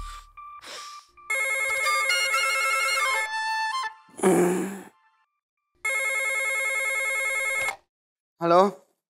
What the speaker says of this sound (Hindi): अनु फोन उठा, तेरी गर्लफ्रेंड होगी क्या?